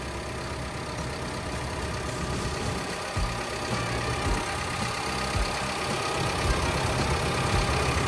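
A 12-ton Caterpillar 312E-2 excavator's diesel engine idles steadily and loudly close by, a constant rumbling drone with faint knocking and no voices.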